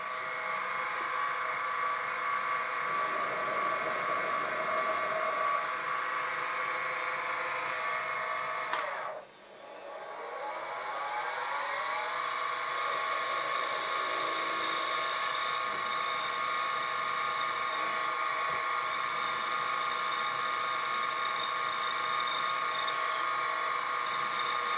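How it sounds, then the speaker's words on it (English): A drill with a 1/8-inch bit whines steadily as it bores into metal, the pitch dipping briefly when the bit bogs down, then climbing back to a high, sustained whir. "I'll centre and drill through with an 1/8 of an inch drill bit"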